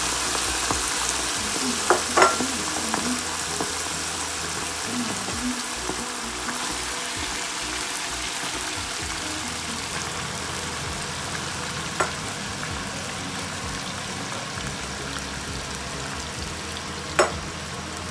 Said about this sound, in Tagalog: When we're marinating our gizzard, we will start frying.